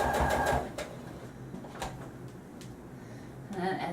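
A sewing machine runs stitches through fabric for a skeleton costume, a soft mechanical whirr with brief clicks and bursts at the start and end, fairly quiet and close.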